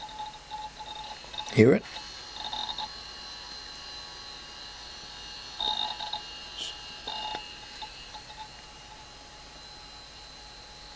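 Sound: Toshiba 305CDS laptop hard drive working

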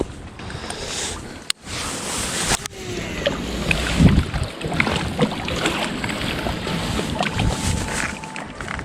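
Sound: strong wind blowing outdoors

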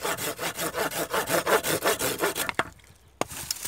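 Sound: Gruntek garden hand saw cutting a branch

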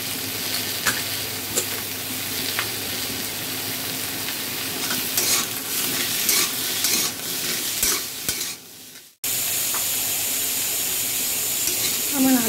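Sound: potatoes and onion frying in a pan

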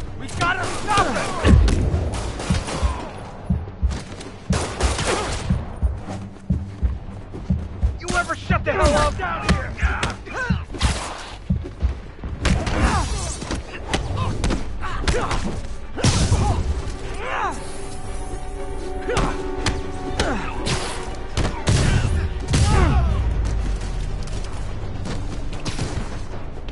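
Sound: explosions in Spider-Man video game

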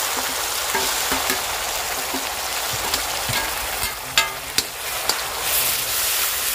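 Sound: onion paste frying in a pan with ginger-garlic paste

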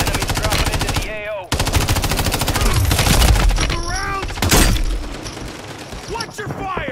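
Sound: gunfire in the video game Warzone

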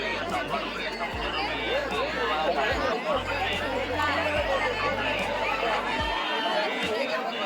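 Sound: large crowd chattering at Ekadashi yatra fair in Ratnagiri

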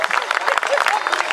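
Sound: audience applauding the models at a fashion show

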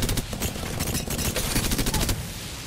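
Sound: Prowler gun firing in select fire mode, Apex Legends video game

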